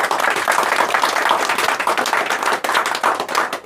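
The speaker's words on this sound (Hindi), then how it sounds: "तो मैं चाहूँगा कि इनके लिए भी एक जोरदार ताली।" Energetic clapping from an audience at a student honours ceremony in India, a dense burst of many hands applauding together, close and loud, sustained throughout with a brief dip near the end and no talk heard.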